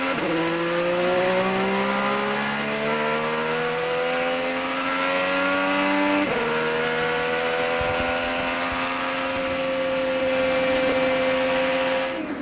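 IndyCar race cars at full speed on the oval during the 2012 Indianapolis 500, a loud sustained high-pitched engine whine with rising pitch sweeps as cars pass and shift, continuous throughout with no talk.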